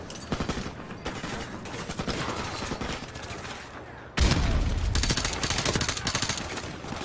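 Gunfire in the video game Call of Duty: Modern Warfare Remastered, a dense run of rapid shots that grows sharply louder and heavier about halfway through and keeps firing steadily to the end.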